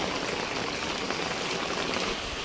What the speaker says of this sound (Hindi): देखिए लगातार झमाझम बारिश चल रही है, कंटिन्यू बारिश चल रही है।